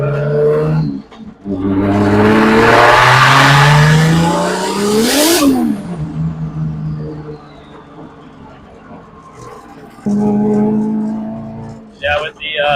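A 575 hp JZ-swapped Nissan S13.4 with a Garrett turbo revs loudly, its engine and exhaust note rising to a sharp peak and then falling back to a rumbling idle while people talk over it.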